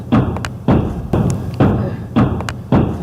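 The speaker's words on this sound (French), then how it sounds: "il va défoncer la porte" Heavy thumps batter a door at a steady pace, about six loud, close blows in three seconds, as though someone is trying to force it open, in a Five Nights at Freddy's real-life setting.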